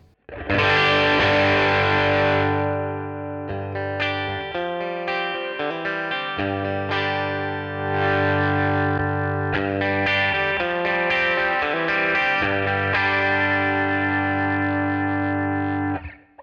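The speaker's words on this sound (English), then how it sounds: "you'll hear there's a lot more of a perceived level drop when backing off the guitar volume" A distorted electric guitar with its volume knob backed off plays sustained chords with a chorus-like shimmer through a compressor, its level dipping and swelling slightly as the strumming continues.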